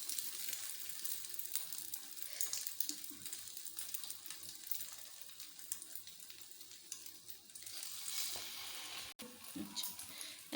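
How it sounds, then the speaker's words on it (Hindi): Egg-coated bread slices for a potato sandwich fry in a pan with a faint, steady hiss and sizzle, and a brief clink near the end, heard close but quietly. "इसको भी हम ऐसे ही फ्राई करेंगे दूसरे स्लाइस को भी"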